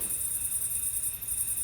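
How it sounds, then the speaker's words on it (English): A dense, steady chorus of periodic cicadas emerging after 17 years underground drones continuously, a high shimmering buzz with gentle pulsing swells, no voices. "it's the sound of billions of cicadas in the US emerging after 17 years underground"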